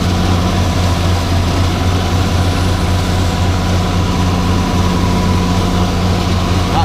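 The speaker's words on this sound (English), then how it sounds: "it sounds like there's a lot of hard material in it when we're blowing it" A John Deere 7610 tractor runs a straw blower loaded with straw full of rocks and hard material, producing a loud, constant engine drone with a dense rushing roar and no voices.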